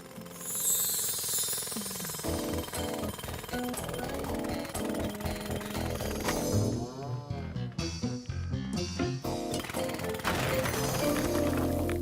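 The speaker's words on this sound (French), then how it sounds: "voir un monsieur casser de la pierre avec un marteau-piqueur" A cartoon jackhammer breaks stone in rapid, rattling bursts under upbeat cartoon music, loud and continuous, with choppy stuttering hits.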